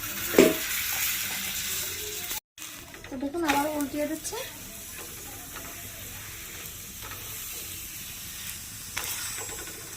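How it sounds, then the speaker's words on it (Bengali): Aloo paratha frying in oil in a pan makes a continuous close sizzle. A few louder clattering stirs and bumps sound near the start, and a brief dropout cuts in early. "এইভাবে একটা করে আমি ভেজে নেবো"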